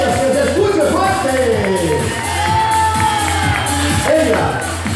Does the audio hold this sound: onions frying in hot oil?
no